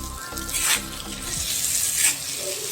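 A banana flower stir-fry sizzles in a hot pan, a steady close frying hiss with a couple of louder stirring swells and no voices.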